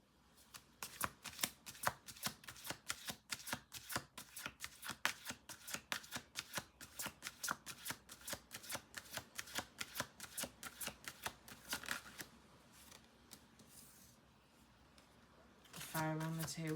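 Rapid rhythmic riffling of cards, crisp clicking bursts repeating steadily for several seconds, then a short pause and a voice at the end.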